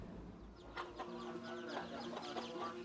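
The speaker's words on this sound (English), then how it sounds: "Chicken." A chicken clucks in a short series of soft, throaty calls, fairly quiet and set against a steady outdoor background.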